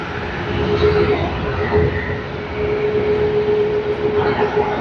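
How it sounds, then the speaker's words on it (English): A T-Way airliner arriving at Sydney Airport rumbles moderately loud at a distance, a low engine drone with a thin steady whine running through it that swells and eases in waves. "And now we have T-Way coming in"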